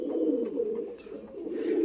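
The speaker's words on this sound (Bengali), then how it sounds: "সুরকির মধ্যে গিয়ে বসে পড়ছে পায়রাটা।" Pigeon settling into a pile of brick dust, giving soft, steady low cooing that runs almost continuously, close and moderately quiet, without talk.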